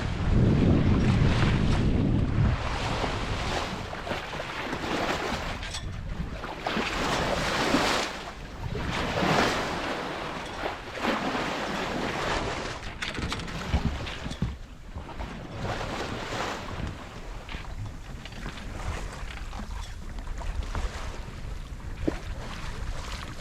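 Steady rush of wind and water along a Rival 41 sailing boat's hull cruising through Atlantic swell at about 5 knots, with broad wash and surf noise throughout and gusty wind buffeting the microphone.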